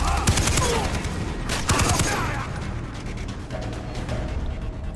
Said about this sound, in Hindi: क्या गन मशीन लेके बैठा है?